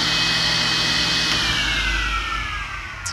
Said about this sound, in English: I can actually hear myself think above this table saw.